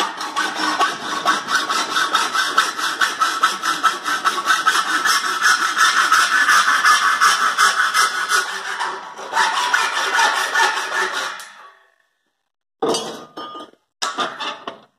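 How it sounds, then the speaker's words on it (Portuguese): A handsaw cuts through a wooden board for a sliding gate, a steady run of rapid back-and-forth rasping strokes for about eleven seconds, then a pause and a few short final strokes, close and fairly loud. "vamos serrar aqui"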